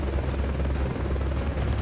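A helicopter in the video game Metal Gear Solid Peace Walker gives off a steady, loud rotor drone that beats continuously throughout.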